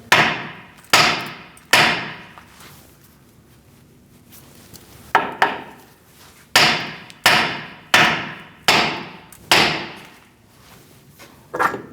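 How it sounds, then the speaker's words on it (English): Repeated sharp metal hammer strikes on the front wheel hub and knuckle of a 2002-2006 Toyota Camry during a wheel bearing replacement, about ten loud close blows in uneven clusters with short gaps between them. "Now you're going to give it a whack right here."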